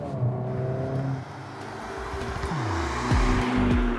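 A 2023 Honda Civic Type R engine revs hard, its pitch climbing and dropping sharply through quick throttle blips, loud and close.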